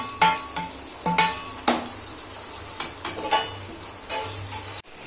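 Ginger garlic paste and tomato sautéing in a pan for a South Indian pepper chicken fry: a steady close sizzle broken by repeated scraping and knocking of a stirring spoon against metal, with no voices.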